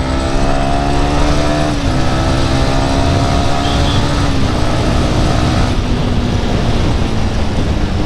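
An Apache RTR 200 motorcycle engine drones loud and close under way, a steady buzzing pitch that shifts slightly up and down with throttle changes, over constant wind rush.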